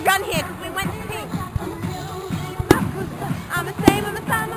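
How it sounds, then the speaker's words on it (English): An outdoor summer fireworks display pops and bangs in a couple of sharp distant bursts, under near, continuous chatter and voices from onlookers. "But look at the fireworks, aren't they pretty?"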